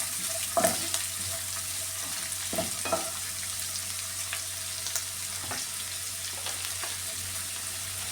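Onions fry in a hot pan with a steady low sizzle. A few scraping stirs and clinks come in the first few seconds, and there is no talking.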